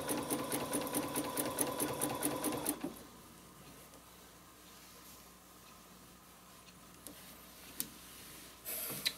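Sewing machine stitching spider web lines on a quilting project, a fast rhythmic needle clatter for nearly three seconds, then stopping, leaving a faint hum and a few small clicks, close and quiet.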